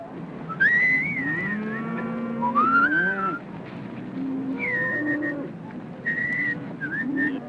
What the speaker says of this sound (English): The sound of men signaling cattle is a warning to a hunting lioness.